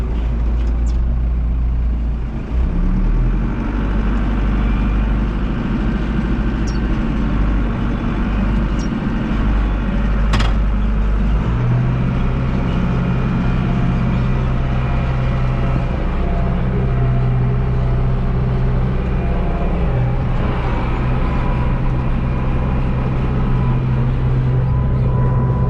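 An American 80 tractor's engine drones steadily and loudly while driving out to a hay field, its pitch and load shifting partway through; no one speaks.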